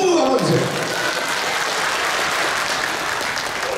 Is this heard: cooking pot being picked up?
no